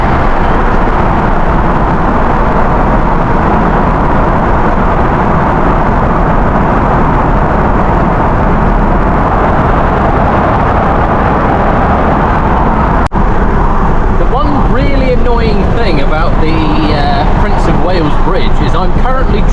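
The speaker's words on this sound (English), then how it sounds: "I'm currently driving away from where I want to be." A car driving along, with a steady loud rumble of engine and road noise running throughout, and a person talking over it toward the end.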